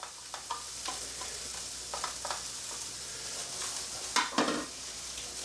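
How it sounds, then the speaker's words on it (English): Sliced peppers and onion fry in a pan, giving a steady close hiss of sizzling with occasional scrapes and clacks from stirring, and no one talking. "We're going to fry them up for about 5 minutes till they go translucent"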